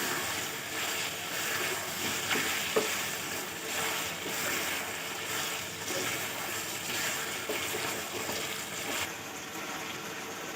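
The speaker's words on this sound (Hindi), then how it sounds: "अब हम इसे अच्छी तरीके से भूनेंगे। इसे अच्छा भून लेंगे।" Steady crackling sizzle of green chillies frying in a pan, continuous and fairly loud, with a few small pops and no talking.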